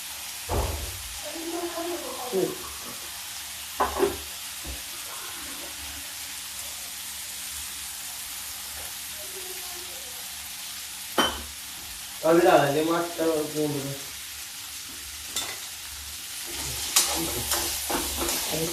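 Potato and bari fry in a pan with a soft, steady sizzle, broken by occasional stirring scrapes. A person speaks briefly at a few points over the quiet cooking.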